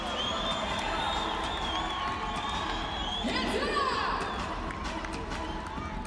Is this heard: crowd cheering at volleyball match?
yes